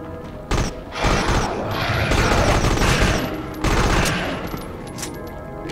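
Rapid bursts of heavy gunfire from the vampire killer gun in the Dredd Vs. Death video game, loud and nearly continuous, with booming thuds and mechanical clatter and no talk.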